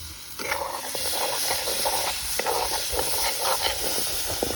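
Potatoes fry in a pan with a steady, close hiss and sizzle, punctuated by light crackles throughout, with no talking.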